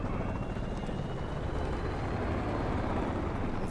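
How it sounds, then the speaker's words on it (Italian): An enemy helicopter takes off in Call of Duty: Modern Warfare 3 (2023), a steady, dense rotor and engine roar filling the whole stretch at constant loudness with no talk. "il nemico sta facendo decollare un elicottero"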